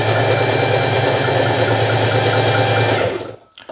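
Facilita Pro sewing machine running a full-width zigzag stitch, a steady close whirring hum that holds evenly for about three seconds before cutting off abruptly.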